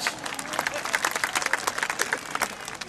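An audience at a live comedy show breaks into applause, a dense, crackling spread of many hands clapping at once, sustained and fairly loud throughout.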